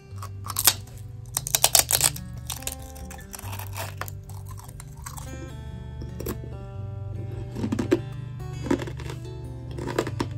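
Loud crunching of a crisp snack, irregular bursts of crackly bites and chewing close to the mic, with a low hum underneath.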